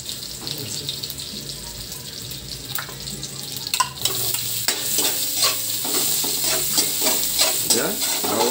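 Garlic sautés in a pan for pork ribs afritada, a soft sizzle under intermittent stirring and scraping clicks that grows louder and busier partway through, with faint running water.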